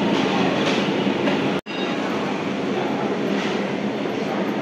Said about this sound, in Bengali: এই ট্রেনটা হচ্ছে ডাউন গেদে শিয়ালদা লোকাল ছিল, এটা করে আমি এলাম।